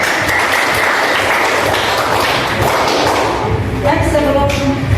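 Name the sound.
classroom applause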